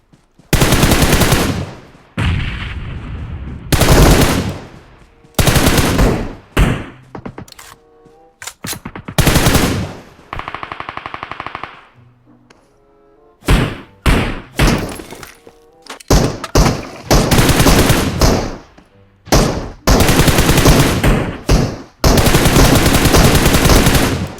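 Gunfire from bots in PUBG Mobile, loud repeated bursts of automatic fire separated by short silent gaps, with some sharp cracking impacts mixed in.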